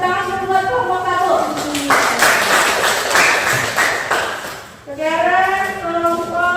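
A classroom of students claps together in a brief burst for a presenting group, sandwiched between stretches of a teacher talking before and after.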